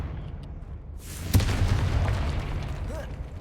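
A Confringo fire spell explodes in the Hogwarts Legacy video game, a sudden booming burst followed by a crackling, rumbling tail, with a brief voice heard faintly.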